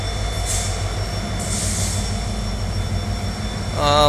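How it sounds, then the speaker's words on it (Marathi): A train at the Chhatrapati Sambhajinagar railway station gives a loud steady rumble with metallic wheel squeal and hiss, and a rising tonal whine near the end. "इकडं समोर एक ट्रेन उभा आहे."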